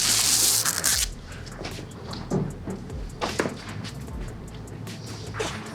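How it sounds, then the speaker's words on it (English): Masking tape is peeled off a car's paintwork after paint correction, heard as a rough tearing rasp at the start followed by scattered crinkles, thumps and rustles at close range. "let's peel the tape"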